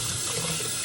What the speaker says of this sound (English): So basically, you grab them, wash them with warm water